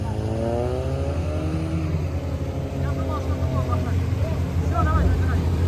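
An off-road vehicle pulling away at a trophy sprint race, its engine droning close by with rising and falling revs, while people talk over it.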